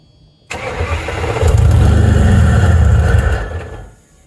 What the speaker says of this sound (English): Tried to get it to start without the exhaust on it and without the O2 sensors connected, and it really didn't want to